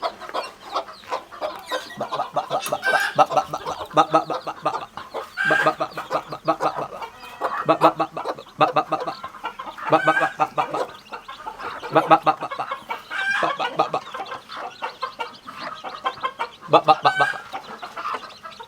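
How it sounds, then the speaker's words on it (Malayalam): Five-day-old hatchling chicks and hens in a garden coop peep and cluck continuously, a busy layered chatter of many small birds close by with no pause. "നമ്മുടെ കോഴിക്കുഞ്ഞുങ്ങൾ ഇപ്പോൾ ഒരു 5 ദിവസമായി കോഴിക്കുഞ്ഞുങ്ങൾ വിരിഞ്ഞിട്ട്."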